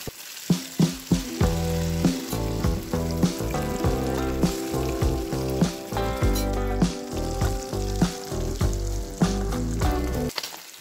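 Anchovy fish frying in a pan, a loud close sizzle with repeated sharp crackles and spatters, strongest at the start, with no voices.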